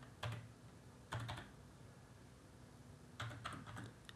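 Three short bursts of computer keyboard typing, quiet and close, with clusters of quick keystrokes separated by brief pauses while entering Python code.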